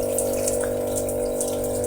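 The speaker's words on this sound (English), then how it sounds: "So you see there's a jet of water blasting right there along the corner" Steady rush of water from a water-fed paint scraper hooked to an ordinary garden hose, a continuous close hiss and flow with no talk.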